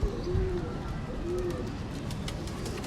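Blue kamgar pigeon cooing in two soft drawn-out calls under a noisy background, close by, with faint chatter and clicks around it.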